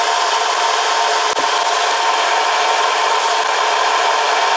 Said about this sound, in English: So I use the cutting wheel to cut this out